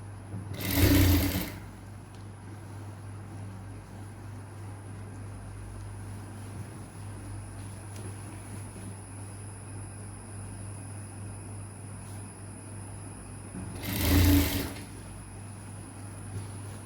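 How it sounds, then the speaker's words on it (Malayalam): A sewing machine stitches a skirt made from umbrella fabric, with a steady low drone and two louder bursts near the start and end, close by and without speech. "ഇനി നമ്മളിത് സ്റ്റിച്ച് ചെയ്തെടുക്കുകയാണേ"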